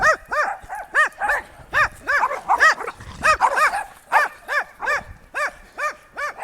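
Dogs bark over and over in quick bursts, close and loud, with short gaps between the barks. Nobody talks.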